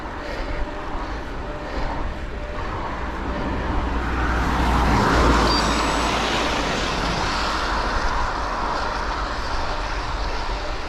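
A car passes a cyclist riding on a road, its engine and tyre noise swelling to a peak and fading away beneath steady wind rush.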